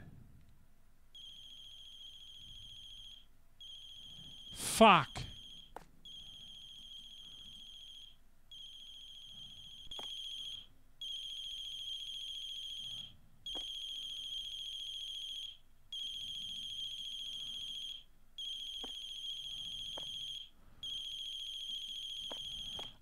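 Phone ringing in The Closing Shift horror video game: a repeating electronic ring in steady bursts. A loud thump and a brief swear from a player come early, and faint sounds sit underneath.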